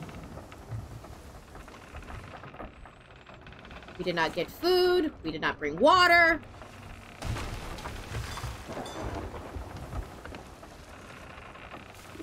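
Rain and a stormy wind wash steadily through a Sea of Thieves storm, with a low rumble of thunder, while people talk at length over it in a game voice chat.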